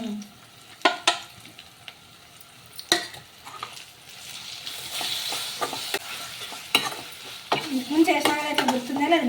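Onion and tomato fry and are stirred in a pan while making roasted brinjal chutney. A spoon scrapes and clatters against the pan in intermittent knocks over a soft, steady sizzle that grows louder near the end.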